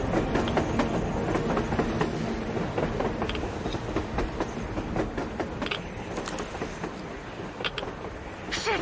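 In the video game Metro Exodus a train runs over surface rails, producing a sustained heavy rumble with regular wheel clatter, creaking carriages and sharp metallic clanks, with no talk over it.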